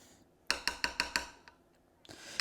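A spoon knocks and clinks against a pot while charro beans and water are stirred, five quick sharp metallic taps in a row, then a few fainter ones and a soft scrape, with no talk.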